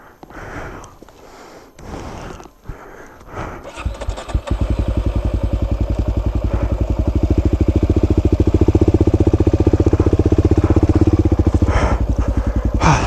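A motorcycle engine revs hard and steadily under throttle on a slippery off-road trail, a loud continuous buzzing drone that builds after a few seconds of rustling and handling noise and holds to the end.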